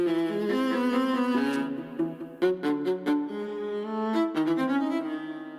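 Doubled string section from an interactive combat score for a boss fight playing alone, sustained bowed notes with soft swells and a few short, accented chords in the middle, smooth and moderately loud with no voices.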